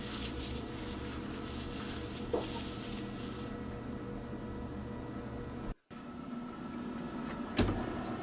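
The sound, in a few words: oven door closing as cookies go in to bake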